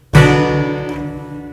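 A single clavichord note is struck and rings on, its tone blooming with a faint shimmering resonance from sympathetic strings as it slowly decays.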